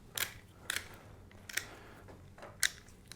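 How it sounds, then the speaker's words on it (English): Scissors trimming the stems of an overarm sheaf flower bouquet: four crisp, separate snips spaced out over a few seconds, close and fairly quiet, with no talking. "all we need to do here is just trim these stems"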